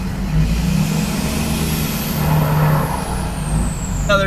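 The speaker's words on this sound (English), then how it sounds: "You can probably hear the turbo." A 2011 Ford F-250 with a 6.7 Powerstroke diesel pulls out of a parking lot, its diesel rumble under a rising then falling turbo whistle, ending in a brief hiss.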